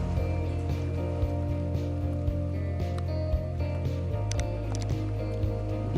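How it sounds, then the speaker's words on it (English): Heavy rain pours down in a steady, dense wash that fills the whole stretch, mixed with other ongoing sounds and occasional short clicks. "I highly apologize if you can hear the rain. It's pouring down right now"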